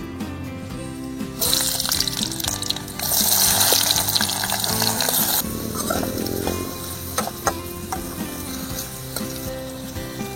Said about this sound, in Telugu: నూనె మరిగిపోయింది. ఇప్పుడు ఫస్ట్ ఉల్లిపాయలు వేసుకుందాం.